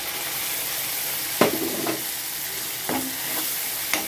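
Ginger-garlic paste and ground onion paste sautéing in a hot pan, a steady close sizzle broken by a few sharp spoon scrapes and stirring strokes, with no voices.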